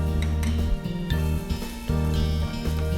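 Ginger sizzles and gets stirred in a frying pan while bagoong isda, a fermented fish dish, cooks, giving a steady close crackle with scraping strokes under a continuous humming tonal background.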